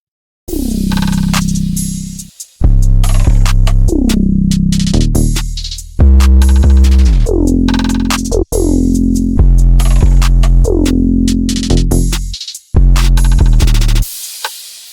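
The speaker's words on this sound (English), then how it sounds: "pretty much all the drums together sound like this." A programmed drum beat with heavy bass hits and crisp hats, the full groove cutting in and out in short phrases with brief gaps.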